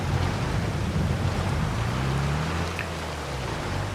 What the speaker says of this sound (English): There the rain starts.